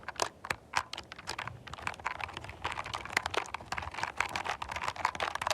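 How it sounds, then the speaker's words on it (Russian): Steady typing on a computer keyboard, close and crisp, with rapid irregular keystrokes and occasional louder clacks throughout. "я очень люблю эту клавиатуру"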